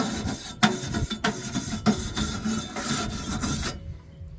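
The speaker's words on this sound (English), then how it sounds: "I also use a wire brush." Wire brush scrubbing metal GrillGrates grill grates, a steady close rasping scrape with periodic stroke accents, continuous for most of the clip before stopping near the end.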